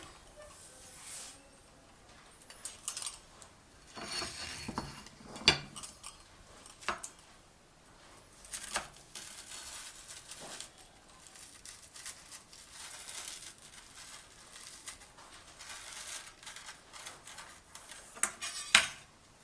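A homemade bread pizza being cut in a home kitchen, faint scattered clicks and scrapes of a cutting utensil against a pan, with soft crinkling taps spread irregularly throughout.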